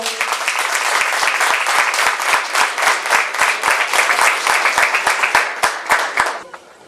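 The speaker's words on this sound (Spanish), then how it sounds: "La recibimos con un fuerte aplauso." An audience at an institute event for the periodic table's 150th anniversary applauds to welcome the director, loud close clapping with sharp individual claps standing out, sustained for several seconds before quickly tapering off.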